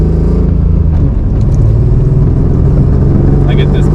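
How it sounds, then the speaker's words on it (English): A Subaru SVX engine with a vacuum leak idles a little high, a loud, steady low rumble heard close up throughout. "Car just idles a little high"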